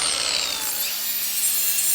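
A power grinder works a junkyard spare tire carrier part for a Chevy-to-Ford van conversion, giving a continuous loud, close abrasive rasping whine without a break.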